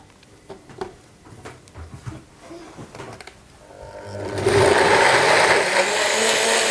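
A Nutribullet 1000 Series juicer blender blending kiwi and water starts up after quiet handling noises and then whirs loudly and steadily, close by.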